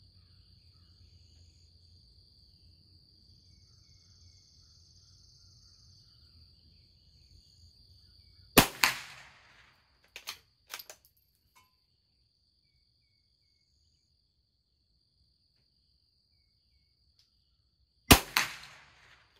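Sharp .22 LR rifle shots fired at IBS tournament targets, a single crack near 8.6 s followed by a couple of fainter pops, then another loud shot near 18 s, over quiet outdoor ambience with a steady high insect-like whine.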